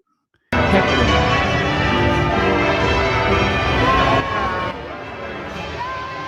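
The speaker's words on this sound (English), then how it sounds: "and then there's the crowd heckling" Loud crowd noise at a public event with Will and Kate, a dense, continuous wash of voices and shouting that starts abruptly and carries on, easing slightly toward the end.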